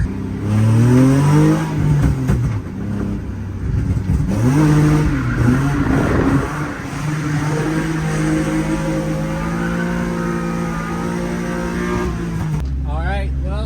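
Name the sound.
BMW E36 M3 car revving while street drifting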